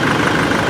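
Nissan Navara engine idling after a fuel filter change, a steady close rumble with a slight surge, running alone with no talk.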